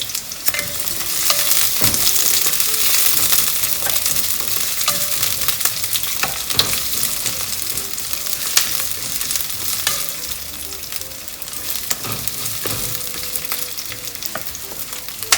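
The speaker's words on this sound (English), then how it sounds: "Add onion. Let the onion be translucent. So saute it for about 1 minute." Onion sautés in oil in a pan, a loud, continuous sizzle with frequent scrapes and stirring clicks throughout, close up and with no voices.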